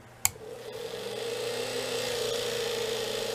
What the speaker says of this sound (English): We have it hooked to our rotary tool.